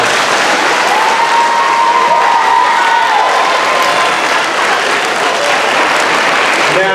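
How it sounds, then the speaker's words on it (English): Steady, loud applause from a school assembly crowd for the 5th grade at a recognition event, with faint voices and a brief tonal sound mixed into the dense clapping. "Let's give the 5th grade a round of applause."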